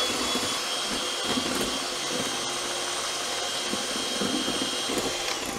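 An electric mixer beats meringue fast for a lemon cake, a steady loud whirring hum that runs unbroken the whole time with no talk over it.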